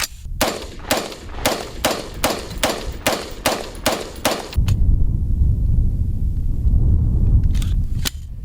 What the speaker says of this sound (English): I'm going to fire like 10 rounds out of this into the dirt.